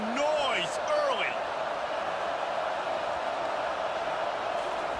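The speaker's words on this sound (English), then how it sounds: "This crowd bringing the energy and noise early." Steady roar of a stadium crowd in EA Sports College Football 25, a loud continuous wash of cheering under whistle-like calls near the start, sustained through the whole stretch.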